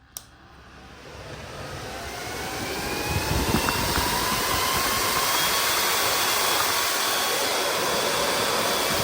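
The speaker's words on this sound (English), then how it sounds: "Once I plug it in to the thermal switch, my fans should kick on." Electric cooling fans on a Harley-Davidson oil cooler spin up after a click, rising over about three seconds into a loud, steady whooshing roar that holds close and unbroken.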